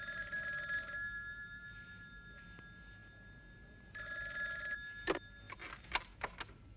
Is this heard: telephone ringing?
yes